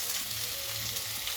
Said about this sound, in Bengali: এবার এই পেঁয়াজটা হালকা একটু আমি ভাজবো